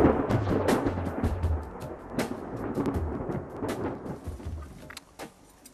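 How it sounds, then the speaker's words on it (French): Low, rolling rumbles of distant thunder from an approaching storm swell and fade over a faint patter of rain, fairly loud and continuous throughout. "alors qu'au loin l'orage gronde."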